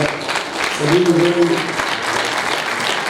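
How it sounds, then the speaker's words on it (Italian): Audience applause at an Italian event, a dense sustained wash of clapping with a brief voice or tone rising over it early on. "io direi di fare un applauso"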